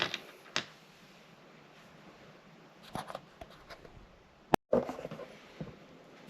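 Plastic parts of an LG icemaker unit being taken apart, with sparse creaks, clicks and scraping handling noises, one sharp snap near the end, close and fairly quiet.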